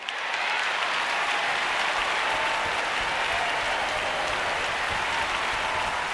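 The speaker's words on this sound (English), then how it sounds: "We were clapping for Johnny." Dense, sustained applause from a studio audience fills the space steadily for several seconds, loud and unbroken with no voices over it.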